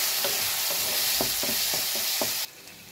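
Turmeric powder being stirred into a tomato mixture in a frying pan: a steady sizzle with a series of scraping spoon strokes, close and loud, cutting off abruptly near the end.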